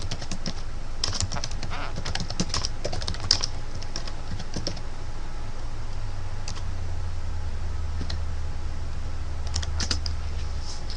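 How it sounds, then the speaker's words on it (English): Rapid, uneven clatter of keys on a computer keyboard, busiest in the first few seconds and then thinning to scattered single taps over a steady low hum, close up with no voices. "You want to type in Google AdWords keyword tool external"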